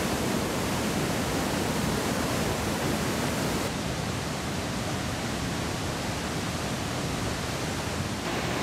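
Iguazu Falls, a vast waterfall in Iguazu National Park, roars as a dense, unbroken wall of loud noise that holds steady throughout with no voices.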